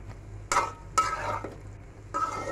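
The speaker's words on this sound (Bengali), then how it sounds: "মশলার সাথে ভালো করে মাখিয়ে নেব।" A spoon scrapes and stirs fish koftas through spices in a pan, three or four distinct stirring strokes with soft sizzling beneath, close and alone without talk.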